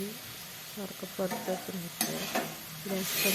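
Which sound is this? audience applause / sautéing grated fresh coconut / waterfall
sautéing grated fresh coconut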